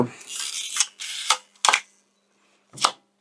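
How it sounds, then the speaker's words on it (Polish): Mechanical shutter of an analog camera under repair fires in a few sharp, dry clicks and rasps, with a longer rubbing whir at first, then separate snaps spaced apart, close and fairly loud. "Migawka."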